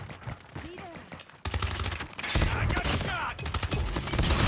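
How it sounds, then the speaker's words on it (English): Rapid automatic gunfire in a multiplayer shooter video game, loud sustained bursts of overlapping shots with a brief quieter gap early on, while players talk over the shooting. "What are you shooting at, dude?"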